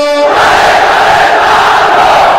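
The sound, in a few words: crowd shouting takbir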